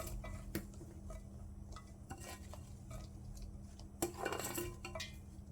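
Blanched green kabocha squash pieces dropped into a heat-sterilized glass container, giving sparse close clinks and knocks, with a busier cluster of clatter near the end.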